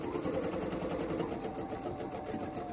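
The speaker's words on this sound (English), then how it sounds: "Back stitch all the way over." A sewing machine back stitches an elastic ear loop onto a fabric mask, running in a fast, steady, continuous rattle close up for the whole stretch.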